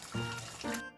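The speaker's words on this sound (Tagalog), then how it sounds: "Mahina kasi yung tubig, Mickey, kaya matagal mapuno." Water trickling and pouring slowly into a backyard swimming pool, a soft liquid fill sound in two brief surges over about a second.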